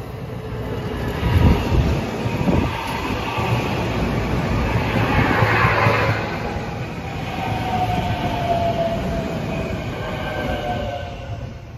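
A train approaches and rolls past a Bucks County, Pennsylvania line, its rumble building and holding as wheels clatter over the rails, with a distant airborne wash behind it and no talking.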